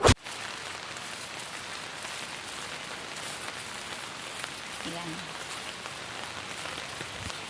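Heavy rain from a typhoon pours steadily onto surrounding surfaces, a constant close hiss with no break.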